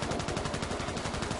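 Rapid automatic gunfire from the shooter video game Contract Wars: a continuous, evenly spaced stream of shots that stays fairly quiet and steady, with no voices over it.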